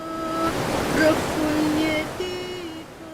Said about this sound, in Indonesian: berjalan menuju ke tengah air terjun